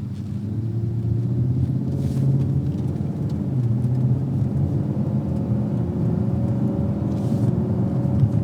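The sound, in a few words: turbocharged stock Ford Mustang engine accelerating, turbos spooling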